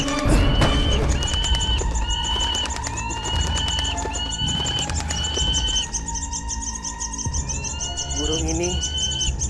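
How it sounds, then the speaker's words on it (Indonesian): Several birds call in repeated clear chirps and tweets, close and fairly loud over a busy background, with a few lower sounds underneath. "Burung ini semakin lama semakin bertambah banyak."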